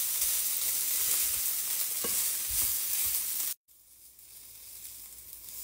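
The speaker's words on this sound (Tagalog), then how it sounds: "Kaya magsangag na." Rice fried in a pan for Filipino-style garlic fried rice, a steady loud broadband sizzle close by with stirring scrapes, cutting off abruptly near the end before a quieter hiss returns.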